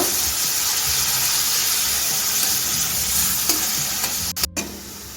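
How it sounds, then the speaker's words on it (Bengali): Chopped onion frying in oil in a pan while cooking chana dal, a steady dense sizzle running throughout with a few soft clatters near the end, close and fairly loud, no voices. "এখন আমি কেটে রাখা পেঁয়াজটা দিয়ে দিচ্ছি দেখুন পেঁয়াজটাকে আমি এখন গোল্ডেন করে ভেজে নেব"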